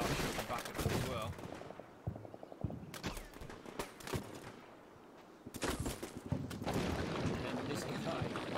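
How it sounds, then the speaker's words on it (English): Video game gunfire as a platoon shoots back, loud bursts of rapid automatic fire and single shots with a voice speaking at times. "And then the front elements of 9th platoon start shooting back at them as well."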